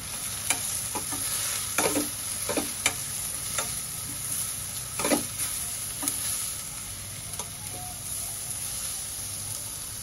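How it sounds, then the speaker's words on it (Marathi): Red chili powder, coriander powder, garam masala, turmeric and salt are sautéed in a pan for a mixed vegetable bhaji, with intermittent spatula scrapes and taps over a quiet background sizzle, close, no speech. "लाल तिखट, धना पावडर, गरम मसाला आणि हळद आणि मीठ छान परतून घेऊया।"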